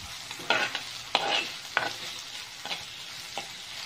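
Sliced onions with lightly crushed garlic fry in a pan for egg thokku. A spatula scrapes and stirs in about five distinct strokes over a soft, steady sizzle, close by with no talking.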